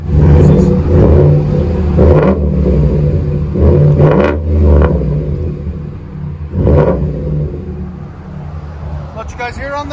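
A 2014 Ford F150 with a 5.0L V8 and a Rough Country cat-back dual exhaust idles with a deep, loud burble, then rises in several sharp revs. Brief voices come in near the end.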